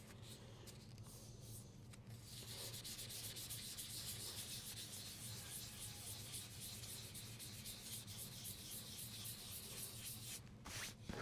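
Sandpaper rubs steadily against a turned cypress wood hollow form, a continuous close, dry scratchy abrasion that holds for about eleven seconds with no talking.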